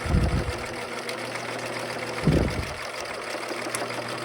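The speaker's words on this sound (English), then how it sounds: "I'm just going to run a straight stitch all the way down the side of this seam." A sewing machine running a straight topstitch along a seam on a backpack, heard in two short motor bursts separated by a pause, close and alone.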